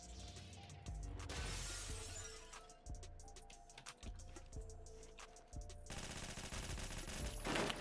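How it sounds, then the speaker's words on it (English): In the Phantom Forces video game, a glass window shatters under gunfire: bursts of shots and a bright crashing break, with scattered impacts and rapid fire continuing around it. "I tried breaking that window and maybe push"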